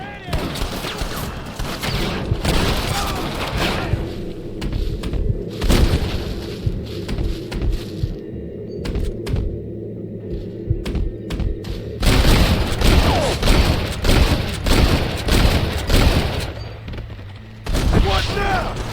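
Gunfire in the Western video game Red Dead Redemption on PC: dense, rapid volleys of shots and booming blasts run almost continuously, loud and close, with a short lull mid-way before another heavy burst, while voices shout over the shooting.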